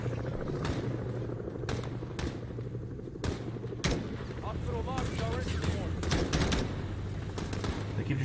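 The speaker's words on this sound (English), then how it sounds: "They keep just shooting in the windows" Gunfire in the Modern Warfare campaign, with sharp shots cracking at irregular intervals over a steady rumbling game backdrop, while a person talks throughout.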